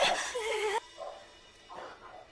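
A dog gives a loud, sharp bark with a whiny tone at the start, then a few quieter yips and whimpers follow in a film scene.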